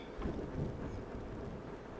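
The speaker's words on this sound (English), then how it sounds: "If you heard that, that is the lightning outside." Thunder from a lightning storm outside rolls as a low, steady rumble, muffled by walls and moderately loud throughout, with no one speaking.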